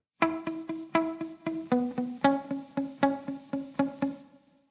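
Dry electric guitar with no effects, picking a short melodic phrase of about a dozen clear plucked notes in steady rhythm, each note decaying quickly and plainly, with no echo or added tail before a brief fade.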